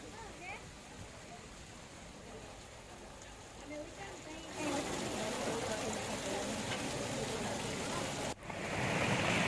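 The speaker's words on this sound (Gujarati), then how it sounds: "ગામે બજારોમાં ધસમસતા પાણીના પૂર વહેતા થયા છે।" Rushing floodwater pours through village market streets after heavy rain, a steady broad roar that grows louder partway through, with voices faintly audible underneath.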